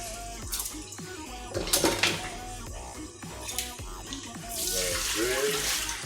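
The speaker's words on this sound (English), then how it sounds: "then we're gonna wash our rice. So yes guys, wash your rice nice and properly." Tap water runs steadily while rice is washed in a pot for Jamaican pumpkin rice, with splashing and occasional clinks of grains and cookware, the flow swelling louder near the end and a voice speaking faintly underneath.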